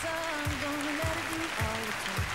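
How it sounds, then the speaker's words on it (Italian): Audience applause at a televised beauty pageant, a steady wash of clapping with a sustained musical tone and a low rhythmic beat running beneath it. "Applauso."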